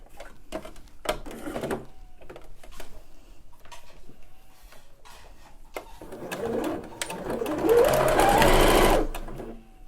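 Sewing machine stitching elastic onto a skirt, running in short intermittent bursts and then a longer, louder steady run near the end, with faint cooing birds in the background.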